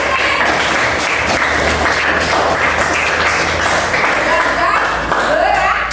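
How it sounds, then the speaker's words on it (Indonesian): A classroom-style gathering gives loud, dense clapping throughout, close and continuous, with voices mixed in beneath the applause. "Ya, tepuk tangan."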